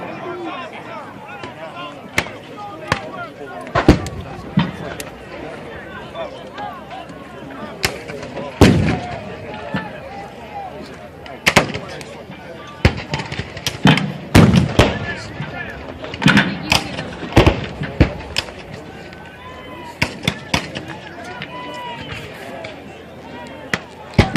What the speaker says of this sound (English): Now these artillery pieces fire a variety of ammunition.